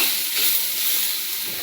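Coconut frying in a pan with tomato and onion gives a steady, close, loud sizzling hiss that stays even throughout the short stretch, with no voices.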